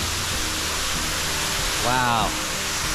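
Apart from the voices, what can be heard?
150-foot rainforest waterfall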